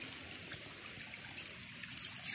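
Water trickles steadily in a small stream beside the Appalachian Trail approach trail, a soft continuous babble with faint splashes, heard alone.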